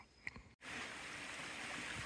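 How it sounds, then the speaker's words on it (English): School Brook in Fundy National Park, a small brook over stones and rock with clear water, sends up a steady close wash of flowing water that runs unbroken after a short pause near the start. "We made it to School Brook. A nice little piece of water."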